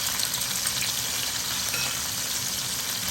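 Steady, loud sizzling and crackling of mushrooms frying in an air fryer, continuous and close, with no talking.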